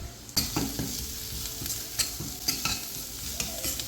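Ginger garlic paste with fennel and cumin powder sautéing in hot oil for a mutton blood fry, a continuous sizzle broken by repeated scraping stirs of a spoon against the pan, close and fairly loud.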